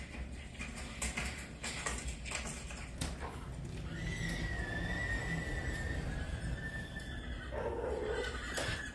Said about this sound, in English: Oh, update from a horsey.